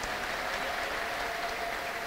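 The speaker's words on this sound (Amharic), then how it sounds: "ለጌታ ከፍ ያለ ለልታ ጭብጨባ ስጡ" An audience claps steadily for the Lord at a church healing service, a dense, even wash of applause that carries on without pause.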